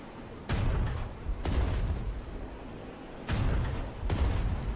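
Artillery barrage in the video game Winter War, with several distant heavy booms rolling in at irregular intervals over a low rumbling background.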